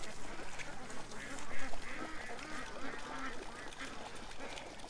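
Ducks quacking near a backyard fence at feeding time, a steady scatter of overlapping calls at moderate distance over low outdoor background noise.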